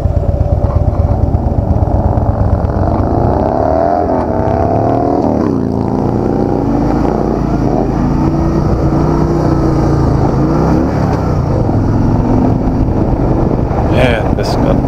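A 2016 Harley-Davidson Softail Deluxe rumbles loudly throughout a ride near South San Francisco, engine pitch rising and falling through the gears, with heavy wind noise buffeting the microphone and a rider's voice speaking over it.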